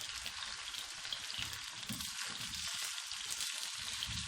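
Eggplant slices fry in oil on a flat tawa, a steady broad sizzle with fine crackling spatter throughout, close and fairly loud, no voices.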